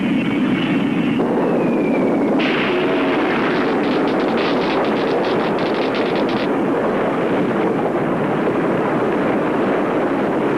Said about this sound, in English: Bombs are ready to go.